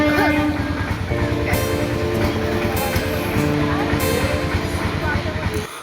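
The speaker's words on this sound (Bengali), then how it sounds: "কারণ হর্ন মারতে শুরু করে দিয়েছে ট্রেন, তোমরা দেখতে পাচ্ছ। তো ট্রেনটা চলে যায়" A train passes a level crossing and blows its horn: loud, sustained, layered tones ride over a heavy rolling rumble throughout.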